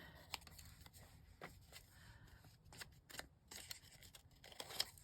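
Scissors cut paper for a hinged folder, a series of quiet, close crisp snips and paper rustles spaced irregularly through the quiet room, with no talking.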